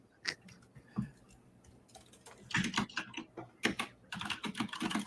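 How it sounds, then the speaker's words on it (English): Typing on a computer keyboard: scattered single key clicks at first, then dense bursts of rapid clacking close to the mic, with short pauses between runs. "So we recorded the typing,"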